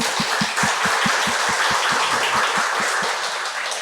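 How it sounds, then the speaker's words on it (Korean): Audience applauding a pastor after his lecture in an indoor hall, many hands clapping in a steady round with sharp, evenly spaced beats, fairly close, tapering off near the end. "우리 귀한 강의 해주신 목사님께 다시 한번 큰 박수"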